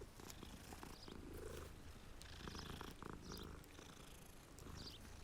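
A cat purrs steadily and softly in Hogwarts Legacy as it is petted, a continuous low rumbling purr with no talk over it.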